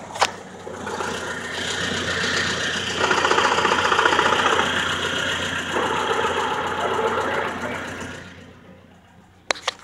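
A reinstalled 2.2L four-cylinder engine in a Chevrolet S10 idles steadily up close, a continuous loud mechanical drone with a slight knocking texture and a small rise midway, ending with a couple of sharp clicks; no voices.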